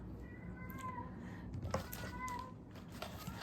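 A domestic cat meows indoors during a package unboxing: a few soft, thin meows in two short bursts, fairly faint against steady low room noise and handling sounds.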